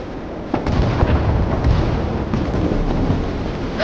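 Warship guns firing in the naval battle game Force of Warships, a loud rumbling barrage of booms and blasts rolling continuously over a dense roar, with no talking.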